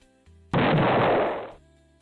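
Explosion sound effect triggered by a stream mix-it-up alert, a sudden loud blast of noise lasting about a second before fading back into quiet background music.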